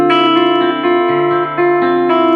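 An electric guitar on its bridge pickup plays sustained chords and notes with a bright, slightly driven tone, loud and close, changing pitch every half second or so.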